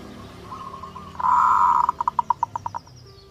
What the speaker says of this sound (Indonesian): Salah satu daya tarik utama burung perkutut adalah suaranya yang merdu dan menenangkan.